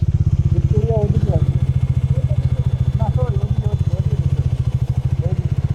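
Motorcycle engines idling and running at Kolkata Maidan near Victoria Memorial, a steady close throbbing putter with rhythmic pulses throughout, while voices talk over it.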